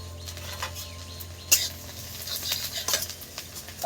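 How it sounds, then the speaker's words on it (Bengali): Garlic sizzles in hot oil in a pan while an egg tadka is cooked dhaba style, a soft steady crackle and fry with a few scraping stir and utensil clinks. "রসুন দিয়ে দিচ্ছি এই তেলের মধ্যেই"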